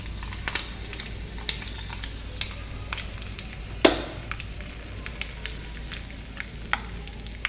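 Curry leaves splutter in hot tempering oil with asafoetida, a quiet steady fry crackle marked by sharp pops and one louder burst, close and without speech.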